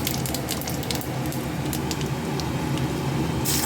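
Heated mustard oil sizzles as panch phoron and cumin are tossed in for tempering, a steady, close crackling hiss with scattered sharp pops.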